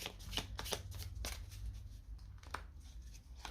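Oracle cards shuffled and drawn from a lovers' oracle deck, a quick run of papery riffles and slaps close up, with a low hum underneath and no talking.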